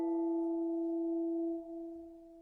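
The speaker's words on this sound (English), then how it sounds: "play the chime for you." A meditation chime rings out with a steady, sustained tone, its bright overtones holding evenly before softening slightly toward the end, heard alone without talk.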